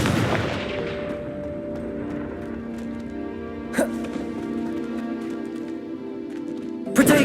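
A Confringo blasting spell fires in Hogwarts Legacy, an initial loud burst fading into a sustained humming tone, then two sharp blasts, one in the middle and one at the end.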